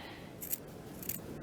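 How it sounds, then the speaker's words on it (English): Small two-to-three-inch scissors snip through a fabric seam, giving two short, close, crisp cuts spaced about half a second apart against a quiet background. "get your little 2-3 inch baby scissors out"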